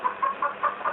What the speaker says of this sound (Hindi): ये उस कोने में मुर्गा भी कैसा सहमा सा बैठा है